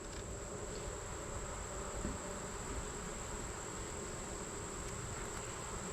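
Honeybees buzz steadily around an open hive during an August inspection, a dense continuous hum close by and unbroken for the whole stretch.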